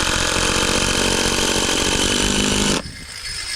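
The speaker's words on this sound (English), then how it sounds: "So we're just gonna stick a couple 3-inch screws in this bad boy to hold it up." A power tool whirs loudly and continuously as 3-inch screws are driven into a board, then cuts off abruptly near the end, leaving quieter background noise.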